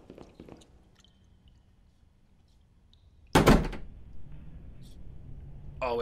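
In a horror video game, a door opens with one sudden loud bang-like thud around the middle, followed by a low rumble, with quiet ambience before it and brief voice sounds at the edges.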